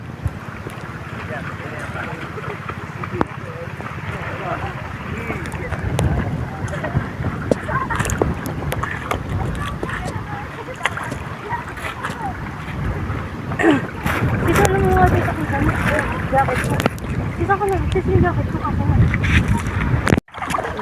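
A small outrigger boat moves off at a beach, with a steady rumble of motor and water plus wind buffeting the microphone throughout, and faint voices in the background.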